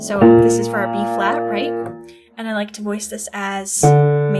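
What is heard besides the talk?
None of the usual background noises is heard.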